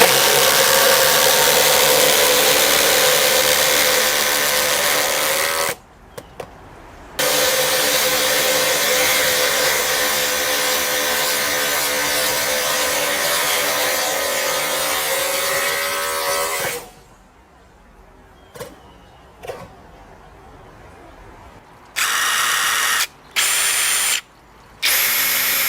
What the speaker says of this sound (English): Which one of these is gonna drive a 10-inch Simpson strong tie, strong drive, super duper timber screw the fastest?